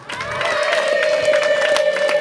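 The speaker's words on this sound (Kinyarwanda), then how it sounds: "Musubire impundu" A crowd at a Rwandan ceremony ululates in a loud, sustained, high trilling chorus that carries on without a break, close and full.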